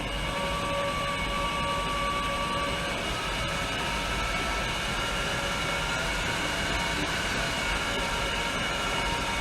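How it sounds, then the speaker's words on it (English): An Auto 155 OCL on-car brake lathe spins a car brake rotor at around 90 RPM while resurfacing it, producing a loud, steady mechanical whir with sustained tonal hum throughout. "Now we can start resurfacing our rotor. So we're going to bring this up to about 90 RPMs"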